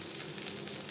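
Chopped onion hits hot oil with peanuts in a pan while cooking masoor dal khichuri with meat, giving a steady, close sizzle and crackle.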